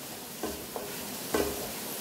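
Chicken egg fried rice being stirred and sautéed in a pan: a few soft scraping stir strokes over a faint, steady background sizzle, quiet and close, with no talking.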